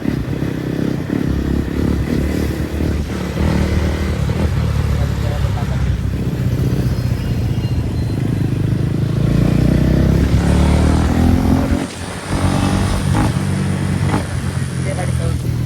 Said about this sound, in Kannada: ಈಗ ನಾನು ಡ್ಯೂಕಲ್ಲಿ ಗಾಡಿ ಹೋಗ್ತಿದ್ದೀವಲ್ಲ